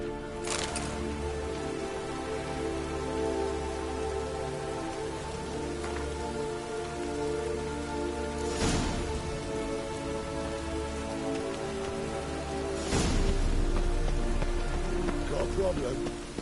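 Steady rain patters on surfaces in The Witcher 3, a constant close hiss with a low rumbling backdrop and a few sharp crackling bursts throughout, with no talking.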